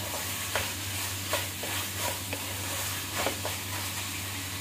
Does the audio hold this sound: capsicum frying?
yes